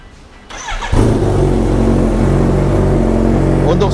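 A 2022 Kawasaki ZX10R superbike with a slip-on exhaust fires up after a short crank, then holds a loud, close, rumbling idle.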